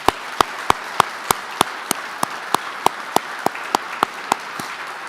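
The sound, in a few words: audience applause at a retirement ceremony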